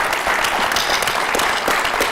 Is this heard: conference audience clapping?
yes